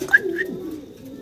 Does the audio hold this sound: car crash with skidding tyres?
no